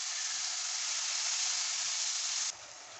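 Spiced masala with yogurt sizzles and hisses steadily while frying in a pot, a loud, even sizzle that drops abruptly softer near the end.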